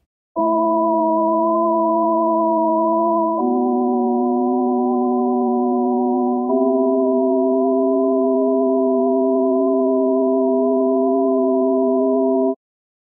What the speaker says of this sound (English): here's an extreme cassette sound